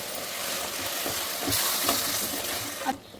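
Ground masala paste for biryani frying in oil in a pan. It sizzles steadily and loudly while being stirred, with a few soft scrapes against the pan.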